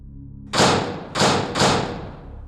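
Three heavy knocks on a door, spaced about half a second apart, each a loud dull thud with a short ringing decay, heard alone in an eerie, quiet space.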